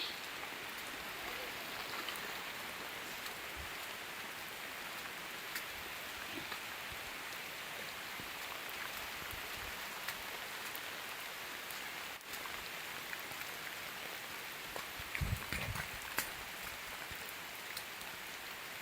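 Rain falls steadily at Kolli hills, a dense, even hiss of drops with a few louder nearby taps and patters, and no voices.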